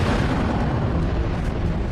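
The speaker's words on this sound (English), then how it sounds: "It'll explode outward and simply rip everything apart." A huge antimatter explosion at the Earth's center rendered as a sound effect: a continuous, dense, rumbling roar of blast and eruption, loud and sustained without voices.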